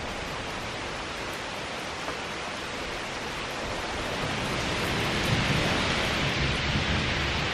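Heavy thunderstorm with hard rain pouring steadily and continuous broadband rumble of thunder, loud and constant throughout with no voices, growing slightly stronger in the second half.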